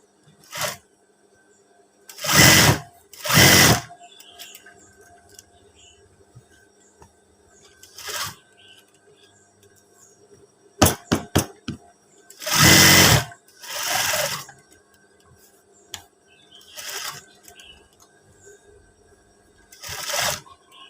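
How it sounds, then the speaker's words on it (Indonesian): A sewing machine topstitching a seam on a school uniform shirt pocket runs in loud short bursts, some about a second long and some as quick rapid stutters, with quiet handling pauses in between. "kita tindas jahitan"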